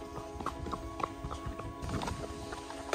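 Camargue horses move around nearby, giving off a scatter of hoof clops and soft snorting at moderate volume over a constant outdoor background, with no one speaking.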